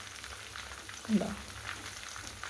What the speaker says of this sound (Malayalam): നമുക്കത് തിരിച്ചും മറിച്ചിട്ട് ഫ്രൈ ആക്കിയെടുക്കാം.